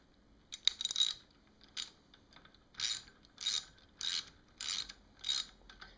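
A 13mm socket ratchet tightens the stem bolt on a Mongoose BMX bike, giving close, crisp clicking bursts that repeat in an even rhythm about every half second, with no talking.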